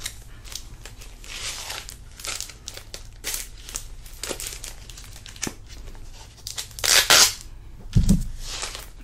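Blue tape is pulled and torn off a mystery box, producing close crinkling, ripping and crackling bursts with a louder tearing rip near the end and no voices.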